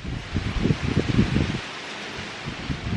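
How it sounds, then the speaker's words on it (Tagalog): Gusts of wind buffet the microphone in low rumbling bursts, then ease into a softer steady rush of air. "Uy, yan naman yung hangin."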